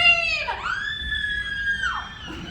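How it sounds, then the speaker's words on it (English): An audience member lets out a long, high-pitched horror-movie scream during a live show at Universal Studios Hollywood. The shriek starts with a wavering onset, holds, then dips near the end, with faint crowd murmur underneath. "Let's all hear how you would scream."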